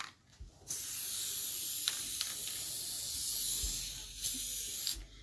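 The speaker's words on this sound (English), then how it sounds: "we are going to spray base this" Spray adhesive hisses steadily onto quilting fabric and wadding for several seconds, with a few short taps and pauses near the start and end.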